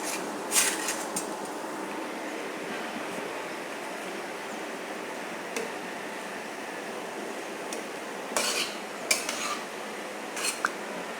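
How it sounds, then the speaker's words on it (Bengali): Onions fry in a pot for Bangladeshi beef rezala, with a steady hiss of cooking and occasional metal clinks and scrapes from stirring, close and without talk. "আমি পেঁয়াজটা কিছুক্ষণ ভেজে নেব কাঁচা গন্ডটা তাহলে চলে যাবে"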